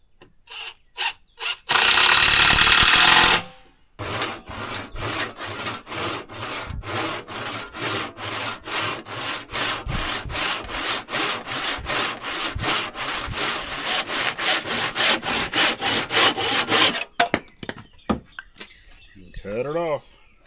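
Cedar board being hand-sawn on a woodworking project for a queen bed, a brief loud burst first, then a long run of steady rhythmic back-and-forth strokes, close and prominent, ending with a few scraps and rustles.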